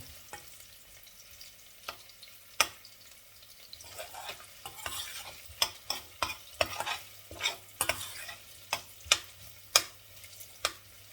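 Ingredients roast in oil in a pan, giving a soft, continuous frying hiss broken by repeated sharp scrapes and knocks as a utensil stirs them.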